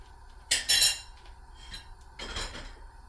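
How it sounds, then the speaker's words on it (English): A spoon clanks and scrapes against a pot while green plantain, green banana and peanut porridge is stirred, with two short bursts of metallic knocking separated by quieter scraping. "You're going to stir it."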